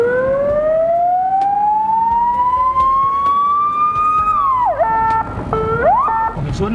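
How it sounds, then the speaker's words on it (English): A loud ambulance siren during a first-aid training exercise wails in a long rising sweep, then switches to quicker up-and-down yelps, steady and near over background noise, with no speech. "let the ambulance come closer"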